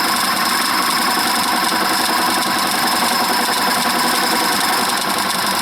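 Myford ML7 lathe with a tool bit cutting into wood, a loud, steady mechanical drone with a constant rubbing hum, unbroken and close.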